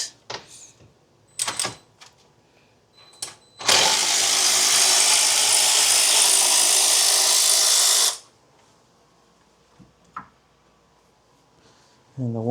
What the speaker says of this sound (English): I'm just gonna have a couple T30s here to remove this top plate